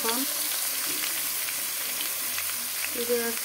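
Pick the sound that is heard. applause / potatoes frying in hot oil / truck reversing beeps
potatoes frying in hot oil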